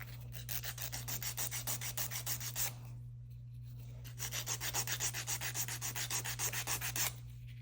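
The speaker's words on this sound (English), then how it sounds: "I'm just filing and just trying to get some semblance of a shape" Nail file rubbing back and forth on an encapsulated acrylic nail with floral inlay, quick steady strokes in two bursts separated by a short pause, close and alone over a constant low hum.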